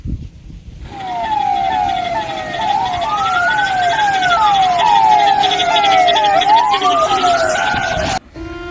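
An ambulance siren arrives at an accident scene, sounding loud and close with a continuous rising and falling wail for several seconds before cutting off abruptly near the end.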